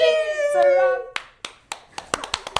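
A small group of people claps a few scattered, uneven times in a classroom setting after a held tone and a voice, with the claps sharp and close.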